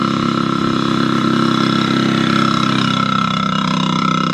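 A scooter creeps past at walking pace, its small engine giving a loud, steady buzzing drone close by that holds throughout without talk.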